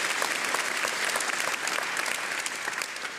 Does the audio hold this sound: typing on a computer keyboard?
no